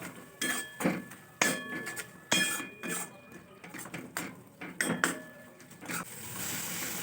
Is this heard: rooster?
no